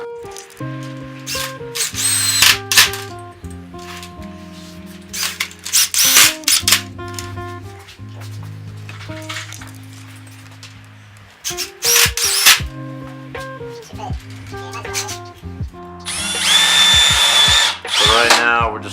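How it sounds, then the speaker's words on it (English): A power drill bores extra holes and drives screws into a wooden crate being made into a shop stool, sounding in several loud, close bursts of whirring with short pauses between them. "So right now we're just drilling some extra"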